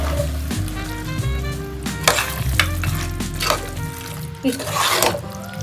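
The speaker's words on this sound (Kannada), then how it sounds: "ಸ್ವಲ್ಪ ಮಿಕ್ಸ್ ಮಾಡಿ" Chicken fry being stirred in a hot pan with coriander leaves, the spoon scraping and clacking in irregular bursts over a steady sizzle, with a few louder knocks near the end.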